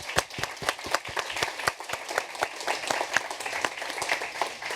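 An audience claps steadily, many hands applauding at moderate volume for several seconds, with no talking.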